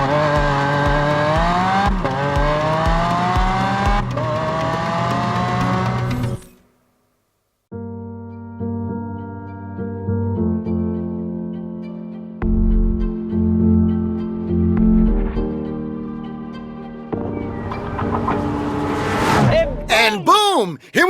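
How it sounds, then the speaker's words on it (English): A 2017 Lamborghini Aventador S V12 roars on the Ricardo Tormo circuit in Valencia, climbing through the revs with gear changes, a brief silent gap, then throttle blips and crackling exhaust pops close by and loud. "while enjoying the crackling of the exhaust pipe"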